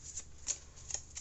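Light Seers Tarot cards are shuffled in a few quick, soft riffling bursts, close and quiet, with no talking.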